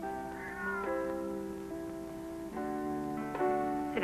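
A cat meows several times in drawn-out, tonal calls, clear and fairly close in an indoor room, with no talking over it.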